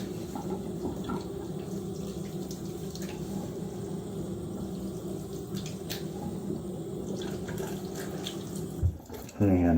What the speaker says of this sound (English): And a little half rinse after this pass here.